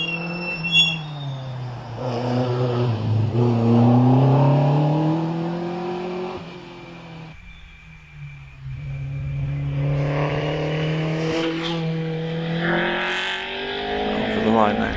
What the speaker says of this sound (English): As we hear Paul Matty getting away off the line